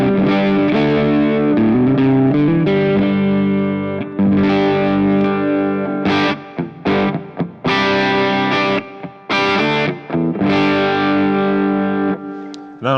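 A distorted electric guitar played through a Mesa impulse response in Lava Studio, loud chugging chords and sustained notes with short pauses between phrases.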